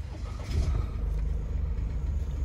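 An Opel Astra engine hums and rumbles steadily at low pitch, with a slight swell in the first second as it comes to life after a push-button start.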